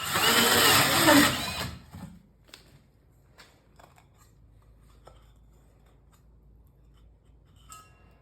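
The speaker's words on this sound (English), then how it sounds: "I used a 6-inch Milwaukee hole saw to cut the Lego studs out of 3/4 inch plywood." A 6-inch Milwaukee hole saw cuts through 3/4-inch plywood with a loud, harsh grinding roar that lasts under two seconds, then stops abruptly. Faint scattered clicks and shop noises follow in near silence.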